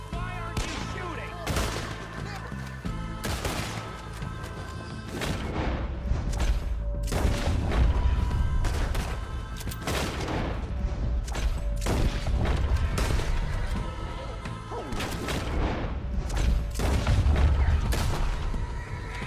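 Gunfire in Red Dead Redemption 2, repeated sharp shots and booming blasts in irregular bursts over a rumbling background, with occasional voices in between.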